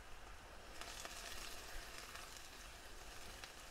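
Spoonfuls of light cream cheese melt in a pan while being stirred, giving a faint, steady, even sizzle throughout.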